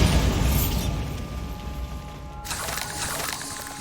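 Spell explosion from the Bombarda charm in Hogwarts Legacy, a deep booming blast at the start that rumbles and fades, followed by a bright crackling burst of debris in the second half.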